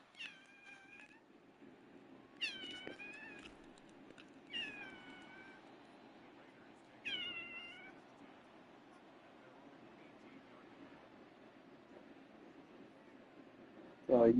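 A house cat meows several times, a few separate drawn-out cries spaced a couple of seconds apart over a low background hum, with a louder sound at the very end.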